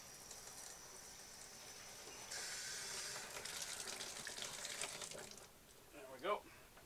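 Water spraying from a shower head inside a 2021 Rockwood Mini Lite 2509S travel trailer, a soft hiss that swells partway through and then tapers off, faint and close, with a brief clunk near the end.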